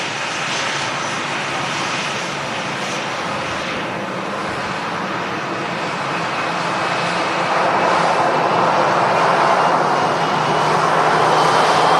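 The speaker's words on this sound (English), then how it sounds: "3 Ryanair aircraft moving on the ground now" Ryanair aircraft taxi on the ground at Manchester Airport. Their jet engines make a loud, continuous roar and whine from a moderate distance, building slightly over time.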